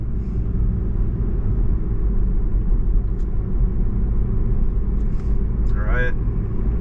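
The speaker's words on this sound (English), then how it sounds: "we'll be accelerating here" A car pulling away from a stop at a busy city intersection, a steady low engine rumble close by while someone talks over it, with a brief squeaky tone near the end.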